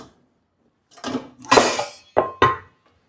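Metal kitchen pans are handled in a home kitchen, giving a few separate clanks and clinks: one soft knock, a louder scraping clatter, then two short sharp hits, close up with silence between.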